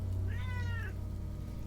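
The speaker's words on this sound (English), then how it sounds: "Alright, kitty, it's time for you to get down." A single cat meows once, a short rising-and-falling cry over a steady low hum of room or computer noise.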